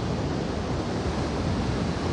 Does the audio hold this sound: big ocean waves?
yes